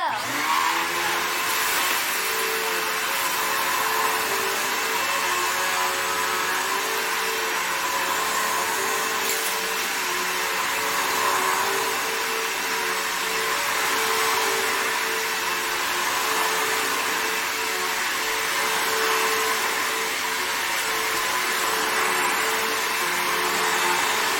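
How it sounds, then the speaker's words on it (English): Bissell PowerForce bagged upright vacuum cleaner running steadily, a loud continuous motor whine and airflow roar that holds level throughout with no voices. "We're going to vacuum up this little mess that's right here and this one."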